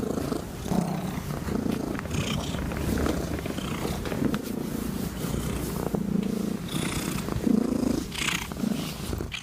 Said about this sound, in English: Purr is a very low-pitched sound, ranging from 20 to 30 hertz.